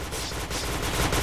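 Rapid, dense gunfire from the Point Blank video game, a continuous burst of loud shots lasting just over a second with no talking.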